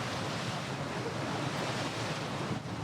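Open ocean waves at sea wash in a steady, full roar, with wind rushing across the microphone and no clear breaks.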